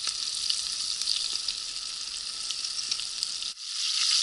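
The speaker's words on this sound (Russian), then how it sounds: "Ну вот, рыбка у нас жарится." Fish frying in a pan gives a steady, close hiss and crackle of hot oil that runs evenly, with no talk, and briefly dips near the end.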